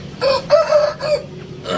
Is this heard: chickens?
yes